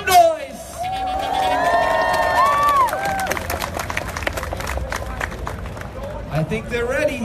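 A crowd at a talent show cheers, whoops and claps loudly across the whole stretch, with musical tones and voices mixed in underneath.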